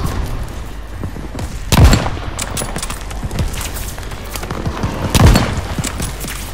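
Gunfire in the WWII shooter Call of Duty Vanguard, two loud, heavy shots a few seconds apart over a constant battle din of distant crackling fire.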